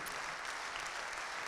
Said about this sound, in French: Nous pouvons vous applaudir.